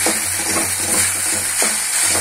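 Okra frying in a pan: a steady, dense sizzle with a constant hiss throughout, alone and close, with no talking.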